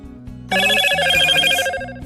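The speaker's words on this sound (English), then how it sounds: "Sorry, that was my phone." A mobile phone rings loudly with a bright, layered electronic melody that cuts in suddenly and plays steadily for over a second before fading, with a low background tone underneath and no talking.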